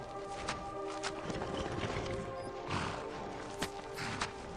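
Horse hooves clip-clop in the video game Skyrim, a steady run of soft hoofbeats with a few sharper thuds, heard over a continuous noisy game backdrop with no voices.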